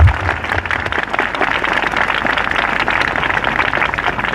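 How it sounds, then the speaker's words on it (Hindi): A church congregation claps loudly and steadily for Jesus at a Hindi-language worship service. The dense applause runs the whole time, close and sustained, with no voices over it. "आइए हम यीशु के लिए जोरदार ताली बजाएंगे"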